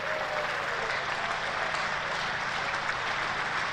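Cricket spectators at a Hampshire v Kent County Championship match applaud James Vince reaching his double hundred, with steady, dense clapping that carries on evenly for several seconds without pause.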